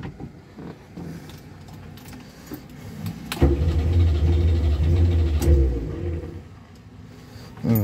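A small ZAZ 968 Zaporozhets car engine cranks, catches and starts at about three seconds, then idles with a loud, low rumble and a brief rev before dropping back.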